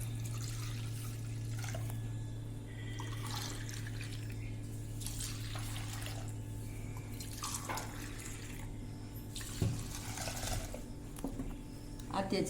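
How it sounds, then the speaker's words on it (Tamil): Milk poured back and forth between vessels to cool it for a fruit mixer drink, several splashing pours in repeated bursts, fairly faint over a steady background hum. "இதை போட்டு நல்லா அந்த பாலை ஆற்றிக்கிறேன்."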